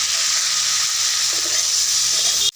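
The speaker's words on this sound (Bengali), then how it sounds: "এটাকে ভালো করে কষতে কষতে এর উপরে কাঁচা ছোলা দিয়ে দেব" Potato, brinjal and raw chickpeas frying and being stirred in a pan, a loud, continuous hissing sizzle close by, ending in an abrupt cutoff, with no talking.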